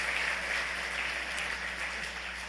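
Church congregation applauding to welcome back four elders returning after six months in the USA, a steady wash of clapping filling the hall with no pauses.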